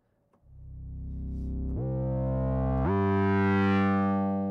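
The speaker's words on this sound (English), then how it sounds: "I'm going to start by adding in this sawtooth wave" Sawtooth wave oscillator in the Helm software synthesizer, used for an evolving bass patch: a bright, buzzy sustained tone that swells in loudness and steps up through three held pitches, growing richer with no talking.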